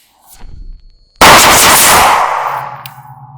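A single unsuppressed Knights Armament KAC rifle shot, a sudden very loud concussive blast that rings out and decays slowly, with a faint resonant hum lingering afterward, heard at close range.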